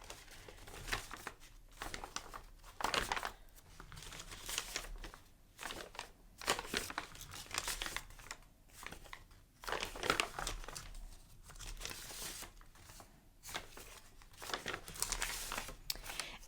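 Pages of a handmade Christmas journal, some glittered paper, are flipped one after another, giving repeated crisp crinkling and rustling bursts at an uneven pace, close and fairly quiet, with no voices.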